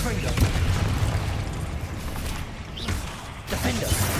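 Confringo spells from Hogwarts Legacy explode in repeated booming, crackling bursts, layered under a voice calling out over the combat noise.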